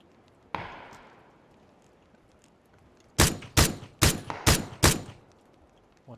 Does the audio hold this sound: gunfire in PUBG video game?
yes